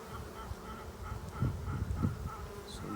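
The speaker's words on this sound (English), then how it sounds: "I have to gently get these bees back in this box." Honey bees from a swarm colony drone in a steady, close buzz, a low hum that swells a little midway and carries on without pause, with no voices.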